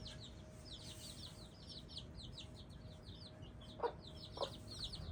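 Soft, rapid clucking from a bantam hen calling her chicks, repeated low calls over a steady background hum, with a couple of louder chirps near the end.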